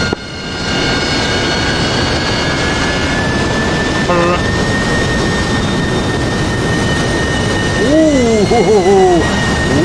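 A jet engine at full throttle in DCS World, a loud continuous roar with steady whining tones, briefly joined by a warbling tonal sound near the end.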